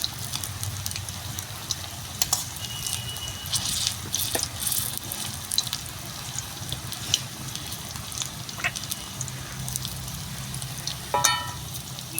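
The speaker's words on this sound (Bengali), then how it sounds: "লাল করে ভাজা হয়ে গেছে এবার আমি তুলে নেবো এক এক করে" Shrimp chops fry in hot oil, a steady crackling sizzle running throughout with a few louder pops and spatters, close by and alone without any talking.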